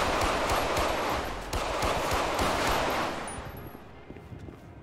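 Rapid gunfire in a GTA 5 police-mod shootout, dense bursts of shots crackling loud and close through most of the stretch, then thinning and fading toward the end.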